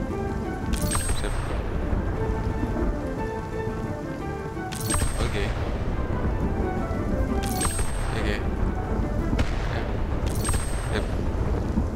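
Thunder and rain in the video game Spiritfarer: four sharp thunder cracks at regular intervals over a steady bed of rain, with a player speaking briefly.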